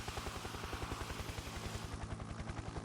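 Helicopter flying in the video game Factorio, a close, steady, rapid rotor thump over a dense engine whine, continuous and alone.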